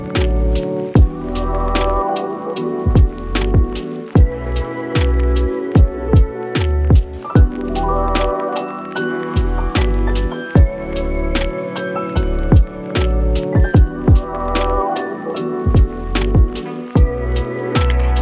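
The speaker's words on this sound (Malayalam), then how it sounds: "കുറേശ്ശെ വെള്ളം ആഡ് ചെയ്ത് മിക്സ് ആക്കാനായിട്ട് ശ്രദ്ധിക്കുക." Potato dosa batter is mixed by hand as water is added a little at a time, giving rhythmic wet squishing strokes with sharp, regular slaps, close and steady throughout, with no talking.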